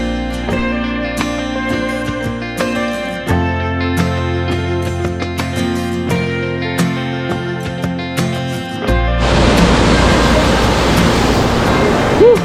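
Osambak Falls waterfall in Baganihan: a loud, broad, steady roar of rushing water rises sharply partway through, after a stretch of music.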